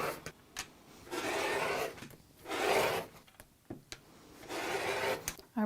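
Fabric potholder edges are trimmed square in a sewing room with several long, close cutting strokes, each a rasping swish separated by small clicks and pauses.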